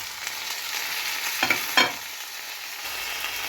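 Ground spice paste for horse gram thoran fries in a pan under a soft, continuous sizzle, with two distinct stirring scrapes close together near the middle.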